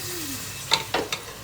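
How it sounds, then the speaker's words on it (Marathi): Masala roasting in a pan, a low background sizzle broken by three quick scraping stir strokes. "चांगला असा मसाला मी भाजून घेणार आहे."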